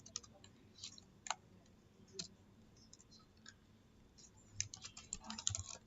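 Typing code on a computer keyboard in quiet, close surroundings, with scattered individual key clicks early on that pick up into a faster, denser flurry of keystrokes at the end.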